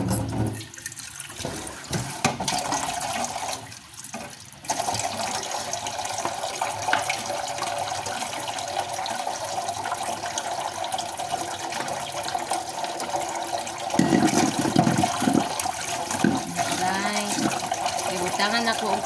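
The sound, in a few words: water running while washing a container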